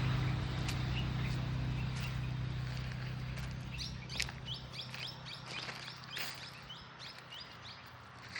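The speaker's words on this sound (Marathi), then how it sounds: "पक्षी किलबिलाट करून राहिले, छान।" Small birds chirp and tweet repeatedly in quick bursts over a low background hum in Jamwadi forest on the Darwha road near Yavatmal, fairly distant, the calls growing busier midway.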